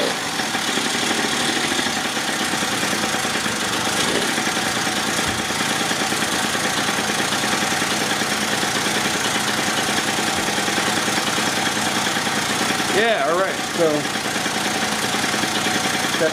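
A 1986 Honda Spree scooter engine idling close by with a steady buzzing drone, a brief wavering tone near the end, and no voices.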